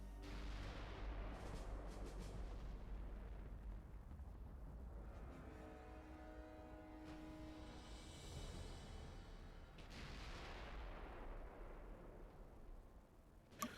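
Twelve-inch naval guns fire in the Ultimate Admiral Dreadnoughts warship game, producing a continuous faint, rumbling wash of distant booms and roar without voices.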